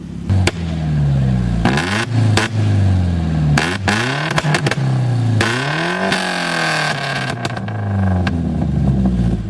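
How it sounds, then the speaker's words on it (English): A car engine with a two-step launch limiter revved hard and close, in repeated sweeping pulls up and down with sharp crackling pops between them, loud and continuous with no talking. "I'm gonna let him give it some RPM."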